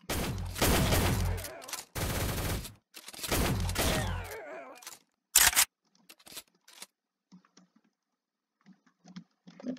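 Gunfire rattles in a shooter video game: several loud bursts of rapid automatic shots in quick succession, then a sharp single burst, followed by faint scattered sounds and quiet.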